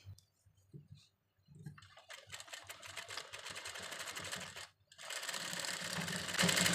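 Sewing machine stitching fabric for a small tassel (latkan) design: a brief hum near the start, then a steady, close whirring run that pauses briefly and resumes louder to the end, with no talking.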